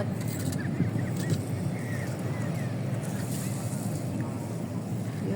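Steady wind blustering across the open shoreline at Dolomite Beach, a continuous broadband rush with buffeting against the microphone, constant and fairly loud throughout with no clear gusts breaking the flow.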